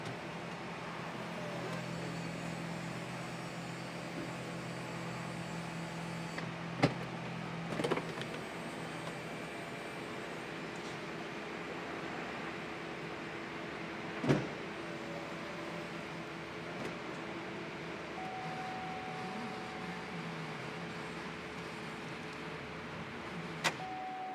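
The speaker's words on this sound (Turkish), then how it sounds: "Şimdi şuradaki tuşumuz bizim tentemizi açıyor." A Chevrolet SSR V8 retro pickup retracting its roof at the press of a button, a low steady electric motor hum running throughout with a few sharp clicks and clunks along the way, close and fairly quiet.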